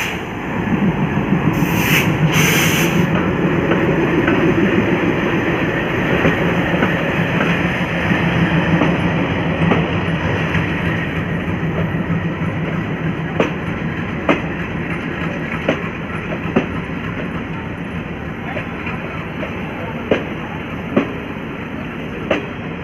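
A Prayag–Bareilly Express hauled by a Lucknow-shed WDM 3D diesel locomotive rumbles steadily along, with a constant rolling drone from inside the train and sharp wheel clicks on the rail joints that repeat every few seconds.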